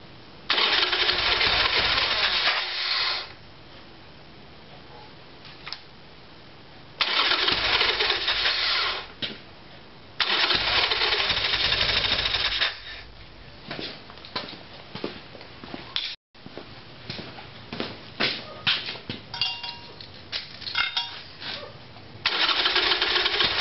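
A Harley Evolution Sportster motorcycle with a carburetor problem is cranked with the choke on, its starter churning in several loud bursts of a few seconds each, separated by quieter pauses with clicks and fumbling.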